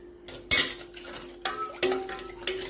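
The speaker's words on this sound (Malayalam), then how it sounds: "ഇട്ട് കൊടുത്തതിന് ശേഷം നല്ലതായിട്ടൊന്ന് ഇളക്കി കൊടുക്കണം." A metal spoon stirs washed rice in a pressure cooker pot, a series of close scraping clinks and knocks against the metal at an uneven rhythm, with no talking.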